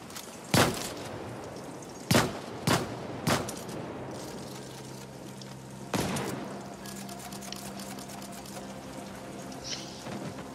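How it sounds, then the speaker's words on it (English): Gunfire in the video game The Ascent, with several sharp, loud single shots early on, one more a few seconds later, then a quieter stretch of background ambience. "You're shooting at me."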